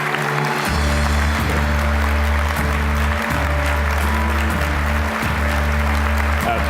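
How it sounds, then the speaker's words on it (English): An audience at a conference opening plenary gives sustained applause, a broad hiss of many hands over a steady, humming musical backing that plays throughout. "let's get one more round of applause, please, for Joan Ryan and Ian Austin"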